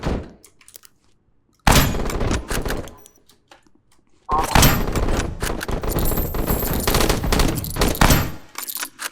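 Video game gunfire with armor-piercing incendiary rounds: two dense bursts of rapid automatic fire, a short one and then a longer sustained stream with a crackling edge, loud and close, separated by near silence.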